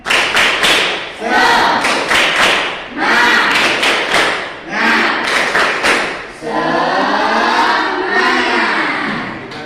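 A classroom of students performs the rhythmic 'tepuk semangat' clapping chant at a morning lesson, loud bursts of patterned claps and thumps interleaved with group chanting voices.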